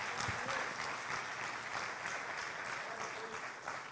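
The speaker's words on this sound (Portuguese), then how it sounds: "Aplauda o Senhor." Church congregation applauding during a sermon, a faint, distant and continuous patter of many hands clapping, steady for the whole stretch with no voices over it.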